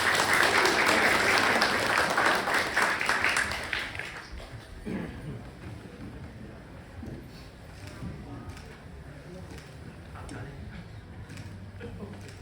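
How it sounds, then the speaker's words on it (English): An audience at a festival opening ceremony applauds a performer, loud dense clapping for about four seconds that then thins into a lighter scattering of claps and murmur. "Please welcome Bella and give her a big round of applause."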